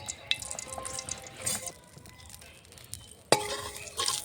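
Bay leaves sizzling in hot mustard oil in a wok, a steady crackling fry with a few light metallic clinks and one sharp utensil knock near the end.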